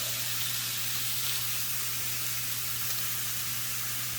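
Steak and onions sizzling on a Pampered Chef deluxe grill and griddle, giving a steady, close, bright hiss that stays constant throughout with no talking.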